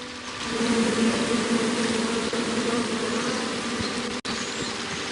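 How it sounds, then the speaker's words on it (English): Bees buzz in the King's Quest video game, a dense steady drone that is loud and continuous throughout. "Come at me, bees!"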